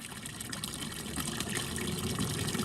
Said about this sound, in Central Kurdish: نزیکەی دەمەترێک ئاوەکە بە دڕویانێکی بەردەڵاندا تێدەپەڕێت تا دەڕژێتە سەرزەوی.